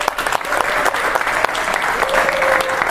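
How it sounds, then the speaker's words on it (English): Warm round of audience applause at a Cayman Airways anniversary event celebrating 40 years in Tampa, with dense, steady clapping and a faint voice briefly audible beneath it. "let's give them all one final warm round of applause"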